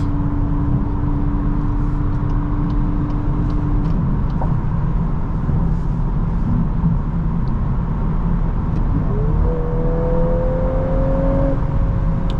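Engine of a 2024 VW Golf R with a DSG dual-clutch gearbox heard from inside while driving, a steady loud drone and road rumble with a brief blip and rising engine tone near the end as gears drop, no talk.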